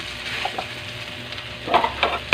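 Malunggay fried rice being stir-fried in a pan makes a continuous crackling sizzle, with scattered scrapes and clatters of stirring that grow busier toward the end.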